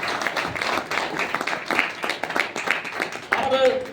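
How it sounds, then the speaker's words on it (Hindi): An audience at an RCM marketing event applauds in a hall, dense steady clapping from many hands, loud and close throughout, with a voice audible over it. "एक बार 2000 तालियां आप सबके बीच से चाहूंगा सर के सम्मान में"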